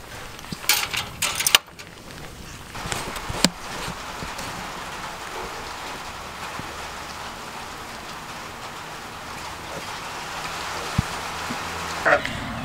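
Steady rain falls on a sheep farm corral where Dorper sheep have crowded in during lambing season, a continuous close hiss with a few louder drips and knocks early on and near the end.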